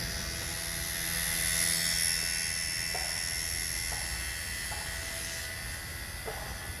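An XK K110 Blast 6CH RC helicopter flies nearby with a steady, high-pitched rotor and motor whine that swells briefly and then holds, with a few faint clicks.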